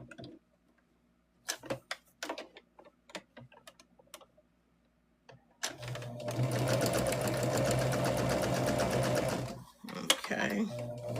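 A home sewing machine chain piecing quilt pieces, first a scatter of separate clicks and taps, then a sustained rapid mechanical stitching run for several seconds before stopping.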